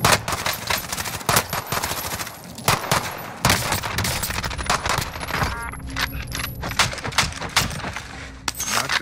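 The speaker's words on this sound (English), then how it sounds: "look how many people are shooting me" Heavy gunfire in the Warzone video game: rapid, loud bursts of automatic weapon fire and sharp single shots crowd together, with brief metallic clinks scattered among the cracks.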